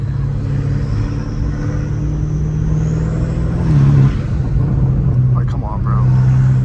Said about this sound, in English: my car legit sounds like a diesel truck